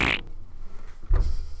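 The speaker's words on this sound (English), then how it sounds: "Pop this with your cigarette, and it'll be a fart when it pops." A novelty item popped with a cigarette lets out a short, close fart noise, a brief buzzy burst followed a moment later by a second low blurt.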